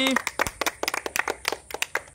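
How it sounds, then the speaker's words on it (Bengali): A small audience claps hands at an award event, a quick uneven patter of individual claps lasting a couple of seconds, close and fairly loud, with a brief voice at the very start. "হাততালি দাও, হাততালি"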